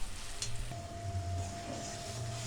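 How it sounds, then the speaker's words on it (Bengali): Spice masala for boal fish curry fries in oil, a steady close sizzle with a soft scrape of stirring near the start and a quiet hum running underneath. "এইভাবে আপনারা নাড়িয়ে নাড়িয়ে দেখবেন"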